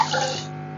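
Water poured from a cup into a cooking pot for plum preserve, a short, close rushing splash that fades quickly.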